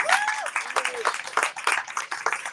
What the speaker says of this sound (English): Round of applause for the amazing musicians.